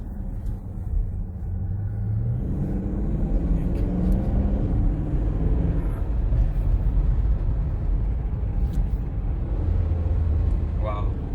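Dodge Durango R/T SUV driving on the road, its engine giving a steady, deep rumble and low drone from inside the cabin, with road noise underneath and a faint rise in pitch partway through.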